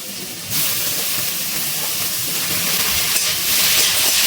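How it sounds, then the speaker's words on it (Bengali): Vinegar-marinated boneless chicken pieces fry on a high gas flame, a loud hiss that jumps up sharply as they go in, then roars on continuously and swells again near the end, close and without talk. "গ্যাসের ফ্লেমটা হাই করে একটু চিকেনটাকে আমি ভেজে নিচ্ছি"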